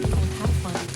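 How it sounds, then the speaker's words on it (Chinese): Chicken pieces sizzling in hot oil in a wok, a loud close crackle with short stirring bursts that repeat in quick pulses. "油热以后先煸鸡肉"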